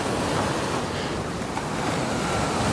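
Open-sea waves breaking at a hidden beach on the Pacitan–Trenggalek border, a steady, loud wash of surf with wind buffeting the microphone.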